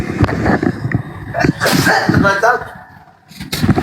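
A single loud human sneeze during a spoken religious discussion in Indonesian, with someone talking just before and after it, close to the microphone.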